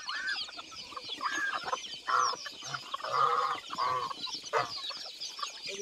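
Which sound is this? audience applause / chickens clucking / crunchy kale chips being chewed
chickens clucking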